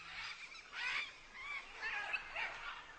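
A flock of red and green macaws calls from an exposed riverbank where they gather for clay, harsh squawks overlapping in repeated bursts, moderately distant and faint.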